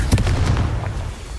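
A Confringo fire spell explodes in the Hogwarts Legacy video game, a loud sharp blast with a burst of crackle that decays quickly, heard alone.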